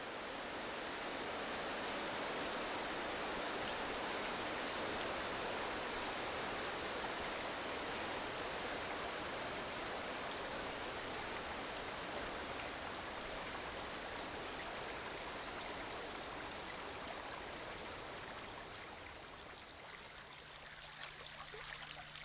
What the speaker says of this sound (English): to hear, thankfully, only the dam's white noise